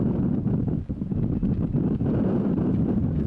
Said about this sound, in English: You can see that wind is kicking.